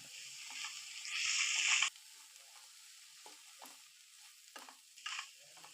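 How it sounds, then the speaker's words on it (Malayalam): Clam meat stir-frying with masala on high flame for a Kerala clam thoran, a short loud sizzle burst followed by quieter sizzling and scattered scraping stirs in a pan. "കക്ക ഇറച്ചിയും കൂടി ഇട്ട് കഴിഞ്ഞാൽ പിന്നെ നമുക്ക് ഹൈ ഫ്ലെയിമിൽ വെച്ച് തന്നെ ഇത് വേവിച്ചെടുക്കാം."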